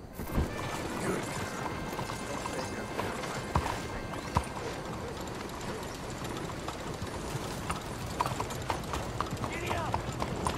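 Horse hooves galloping in the video game Red Dead Redemption II, a steady run of clip-clop beats with occasional louder thuds, set against a continuous game soundscape and some speech.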